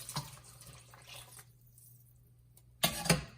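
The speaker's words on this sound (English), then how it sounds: "use the tomato sauce can and add some water" Water poured from a tomato sauce can into a pan while braising trout fillet, a few splashy trickles early, a quiet pause, then a louder burst of pouring and splashing near the end.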